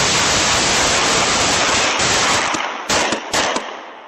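Gunfire in news footage of a shootout, a loud dense crackle of rapid shots that blur into a continuous roar, ending with a few separated bursts as it fades.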